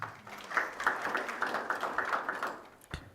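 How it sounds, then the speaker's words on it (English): An audience claps for a foundation at a mentor onboarding workshop: a faint, steady patter of a few hands beating in an even rhythm, tapering off near the end. "The foundation deserves a round of applause"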